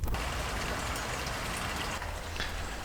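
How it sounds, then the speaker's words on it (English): Steady rain falls outdoors in a dense, even patter with a faint gushing wash, unbroken and with no voices, for a few seconds. "It's been raining like this the whole day,"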